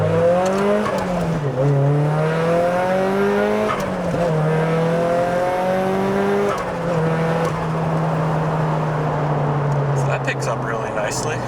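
Nissan S15 Silvia accelerating hard with its turbo spooling, heard loud from inside the car: the engine note climbs, drops at each gear change, then holds a long steady pull.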